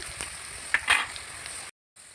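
Mixed winter vegetables frying in oil in a wok for Bengali vegetarian chorchori: a steady close sizzle with a few light clatters of stirring, cutting out briefly near the end before resuming.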